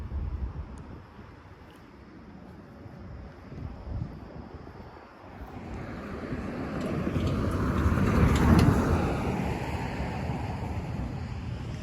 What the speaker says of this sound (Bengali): বাস এসে পড়ছে